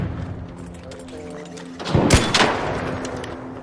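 Video game gunfire aimed at turrets erupts in a short cluster of loud, close shots and thuds, preceded and followed by quieter background game ambience.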